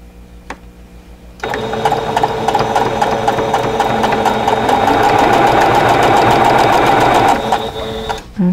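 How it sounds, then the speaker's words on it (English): Sewing machine stitching a flying geese quilt unit, starting after a quiet moment into a close, steady rapid whirring clatter that runs for several seconds, then stops abruptly. "try and stitch just a thread's width on the seam side of that point."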